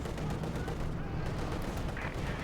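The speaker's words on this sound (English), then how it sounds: "Artillery firing down close to the base." Artillery and heavy gunfire from a Company of Heroes 2 match between Wehrmacht and Soviet forces, dense rumbling battle noise with booms landing continuously and loudly throughout.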